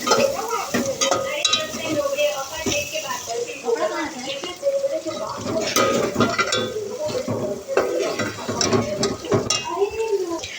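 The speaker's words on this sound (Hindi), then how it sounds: "प्याज जब तक हल्की पिंक, लाइट पिंक नहीं हो जाती, तो चम्मच चलाएंगे" Sliced onions frying in a pan, sizzling steadily while a spoon scrapes and clatters against the metal in uneven strokes, with someone talking over the cooking.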